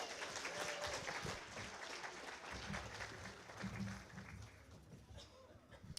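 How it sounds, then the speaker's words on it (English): Audience applause at a citizens' assembly livestream event after a live music performance, a steady, fairly loud wash of clapping lasting the whole stretch. "a huge round of applause for Claire and Mick for the lovely music"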